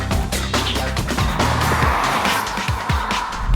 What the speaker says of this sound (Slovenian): Prenovljen je tudi motor, ki hromi tamle spredaj.